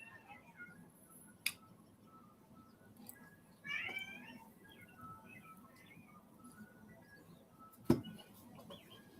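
A cat meows indoors, one short rising call partway through, quiet against a faint background with a couple of sharp knocks or clicks around it and no talk.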